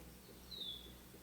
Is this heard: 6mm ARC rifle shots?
no